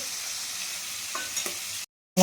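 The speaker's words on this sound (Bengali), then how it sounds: "আর এখানে মাথাটা ভাজা হচ্ছে" A silver carp fish head frying in oil crackles and sizzles steadily up close, then briefly cuts out before a sudden louder burst of sizzling.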